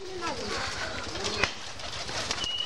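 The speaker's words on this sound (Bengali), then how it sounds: "এখানে 3 প্রকার কবুতর রাখা হয়।" Pigeons in a flying loft give low coos and a brief wing flutter nearby, with a sharp knock partway through and a steady room hum beneath.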